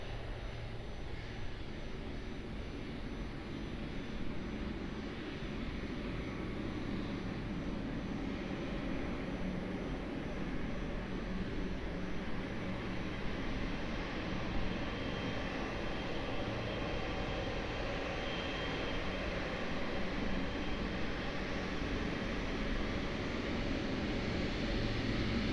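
A plane takes off from runway 02 at Lisbon Airport, heard as a broad, steady engine roar at a distance that stays sustained and gradually strengthens over nearly half a minute.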